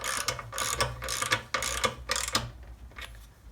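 A hand ratchet tightens a bolt on a Defender Puma MT82 gearbox during a strip-down, with a series of rapid rasping clicks in several strokes, close and loud, then a quieter pause at the end.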